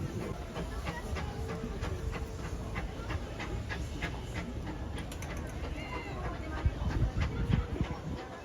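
The Casey Jr. circus train ride at Disneyland Paris rattles along with rhythmic clicking over the track, a steady moderate-distance mechanical clatter, joined by a few brief higher squeals and bumps toward the end.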